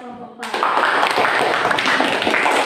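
Classroom applause for a student group, a burst of many hands clapping that starts abruptly after a brief quiet moment and continues steadily, moderately loud, with faint talk underneath.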